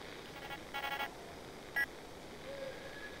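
Short electronic radio beeps from a signal scanner in ArmA 3 Contact, a faint tone burst followed by a single sharp beep, quiet and alone.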